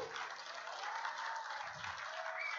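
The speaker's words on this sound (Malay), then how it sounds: "Kita berikan tepukan kepada Presiden Amanah, Abang Mas Sabu." A political rally crowd in Kuala Selangor applauds the Amanah party president, a muffled, steady wash of clapping heard faintly through a band-limited sound system, with a brief low thump partway through.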